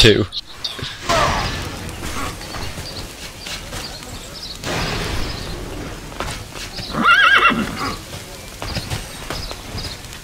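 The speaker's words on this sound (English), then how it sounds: "This guy's got a horse, it looks really cool." A horse in the online game TERA neighs and whinnies loudly, with clip-clopping hooves and a brief crash over a busy game soundscape, while someone talks over it.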